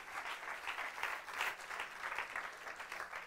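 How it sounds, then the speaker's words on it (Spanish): A church congregation claps during a Spanish-language sermon, steady dense applause that swells and ebbs in rhythmic waves, moderately loud and continuous with no voices over it. "Dale palmas al Señor."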